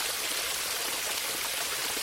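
A waterfall in a children's story about a tin soldier in a little boat: steady, broadband rushing water fills the whole stretch, a continuous roar of even loudness with no voices over it.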